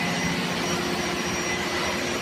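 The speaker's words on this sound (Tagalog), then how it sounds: "Mo ni guys ang main engine sa port side." Main engine of an LCT vessel running on the port side of the engine room, a loud, dense, steady mechanical roar with constant tonal hum and no pauses.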